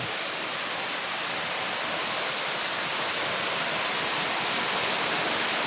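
A dense, steady roar of heavy rain and rushing floodwater outside a house fills the whole clip without pause, loud and close, with no voices.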